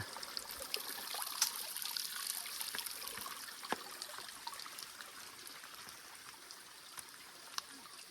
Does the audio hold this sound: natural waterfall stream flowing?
yes